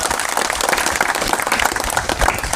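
An audience at a political rally claps for a state minister, dense continuous applause that stays loud and even for a couple of seconds with no voice on top.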